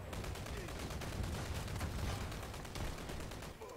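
Shotgun fire during a chaotic video game firefight: dense, continuous blasts and gunfire crackle at a fairly low level, with no clear pauses between shots.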